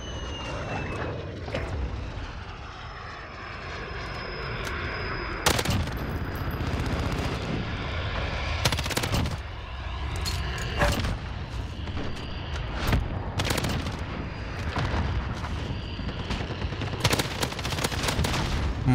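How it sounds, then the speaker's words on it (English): Rapid bursts of M13 assault rifle fire in Modern Warfare, loud and close, come in repeated volleys of sharp shots over a steady game background, with extra distant gunfire and a passing aircraft hum. "Put so many shots in these guys."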